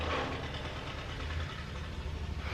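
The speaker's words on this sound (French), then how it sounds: "les gens qui font ronronner leur moteur juste devant la maison pendant des heures" A car engine idling just outside a house, a steady low rumbling hum with a faint uneven knock, continuous and moderately distant, with no voices.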